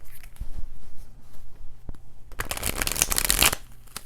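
A deck of tarot cards being shuffled close up: a few soft taps and slides, then a dense, crisp riffling burst lasting about a second, loud and alone with no talk.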